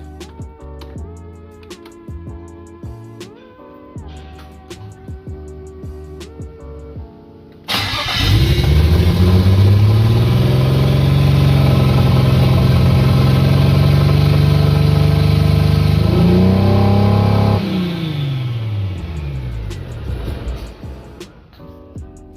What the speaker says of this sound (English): So take that key in the ignition,